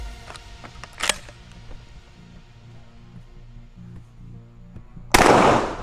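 An Axor A3 12-gauge shotgun fires a slug at a can outdoors, with a sharp crack near the start, a few faint clicks and handling noises, then a loud, harsh blast near the end.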